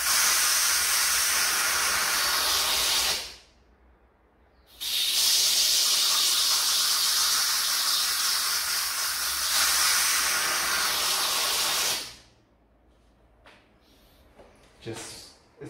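A Philips pressure cooker holding lamb shoulder releases steam in a loud, steady, close hiss. The hiss breaks off briefly, resumes for a long stretch, then stops and leaves a few faint clicks and rustles.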